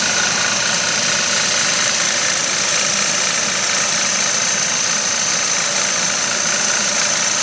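The 9314 engine idles after a cold start, giving a loud, steady, close-up mechanical roar with a constant high whine and no voices.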